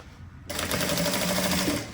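A sewing machine stitches through a fabric bag, starting abruptly after a quiet moment and running as a fast, steady mechanical chatter, close and alone.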